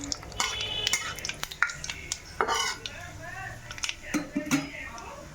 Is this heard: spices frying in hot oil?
yes